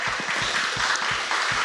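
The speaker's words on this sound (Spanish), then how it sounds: "Dale un aplauso al Señor" A church congregation applauds together in a steady, dense burst of clapping that fills the space, loud and close, with no voices rising above it.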